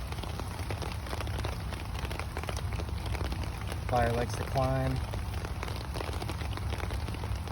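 Pouring rain falls steadily outdoors beside a campfire being started, a constant dense patter close by, while a person speaks briefly over it.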